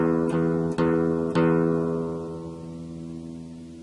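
Guitar sounding opening notes, three plucked notes in quick succession, then the last one left ringing and slowly fading, heard alone and close.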